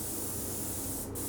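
An airless paint sprayer runs at full pressure, giving a loud, steady broadband spray hiss that holds evenly throughout, with a brief dip near the end.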